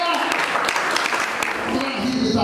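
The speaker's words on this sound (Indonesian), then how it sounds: "Kita beri tepuk tangan dulu." Congregation applauding at a church service, a dense continuous wash of clapping filling the room for a couple of seconds, with voices mixed in.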